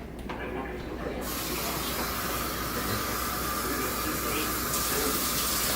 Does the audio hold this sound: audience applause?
no